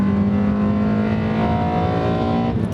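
A 2015 Honda Civic Si engine pulls hard under acceleration, a loud sustained drone rising steadily in pitch from inside the car, cut off by a gear shift near the end.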